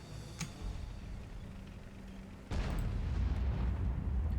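A tank gun fires a blind shot in the World of Tanks game, a sudden broadband boom that cuts in midway over steady battle rumble and lingers as a loud, sustained roar.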